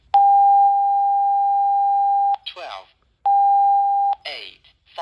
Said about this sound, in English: If you have a blank channel, it'll make this noise.